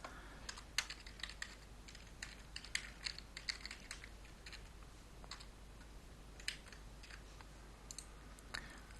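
Typing on a computer keyboard while entering numbers into a program, quick faint clicks in irregular bursts over a low background hum, no voices.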